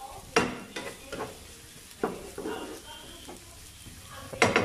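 White onions frying in a pan for Filipino bistek tagalog, with a steady sizzle broken by several sharp stirring scrapes and clatters of a utensil, close and fairly quiet.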